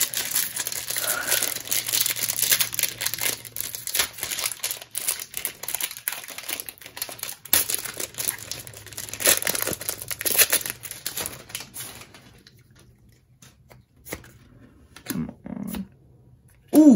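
A Magic: The Gathering Theros Beyond Death booster pack wrapper is torn open and crinkled, making dense, close crackling that fades to quiet near the end, followed by a few brief handling sounds.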